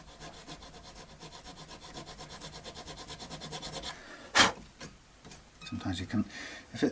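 A fine saw cuts a slot in the rosewood of an Encore Strat guitar neck with quick, steady back-and-forth strokes. The strokes give way to a sharp knock and scattered handling bumps near the end.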